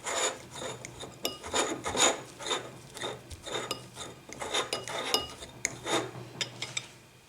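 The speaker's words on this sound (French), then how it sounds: "Je prends mes jaunes et je viens les écraser comme ceci avec une fourchette." A fork mashes hard-boiled egg yolks in a dish with repeated scraping, rasping strokes and light clinks of metal on the bowl, close and uneven in rhythm, with no talking.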